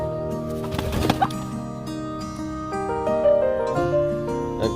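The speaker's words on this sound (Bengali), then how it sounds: "অ্যাগ্রেসিভ মুরগি" Aggressive farm chickens and native game roosters clucking nearby, a run of repeated throaty clucks and calls over a constant farmyard background, moderately loud with no clear talking.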